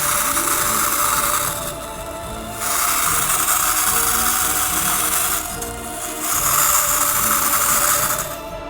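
The metal gears of a Sparky wind-up toy monster are wound, a steady rapid ratcheting whir that pauses briefly twice and resumes, close and alone.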